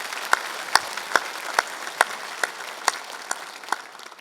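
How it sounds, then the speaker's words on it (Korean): A church congregation on a Thanksgiving Sunday gives a loose round of clapping, about ten distinct claps spread evenly over a few seconds against a soft room hiss, with no voices. "우리 하나님께 영광의 박수 드리겠습니다."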